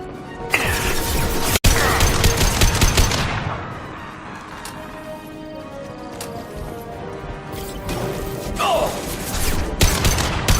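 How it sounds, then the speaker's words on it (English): Bursts of rapid gunfire and clattering impacts fill a Mass Effect Legendary Edition firefight, dense at first, then thinning into scattered shots and mechanical noise. "Taking heavy fire."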